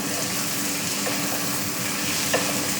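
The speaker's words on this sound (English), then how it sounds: "So I'm stirring it round. Stir away, stir away." Burger sauce caramelising in a pan is stirred round, producing a loud, steady sizzle and bubbling with occasional utensil scrapes and a small knock near the end.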